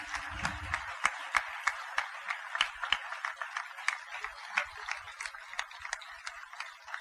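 Applause at a spiritual gathering honoring a revered guru, a thin patter of scattered hand claps in loose rhythm, fairly faint and distant, with a brief low murmur at the start.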